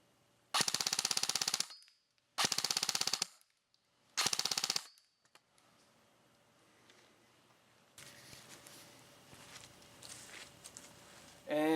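A Krytac LVOA-C airsoft rifle fires three loud full-auto bursts close by, each lasting about a second with short gaps between them. Quieter handling noise follows.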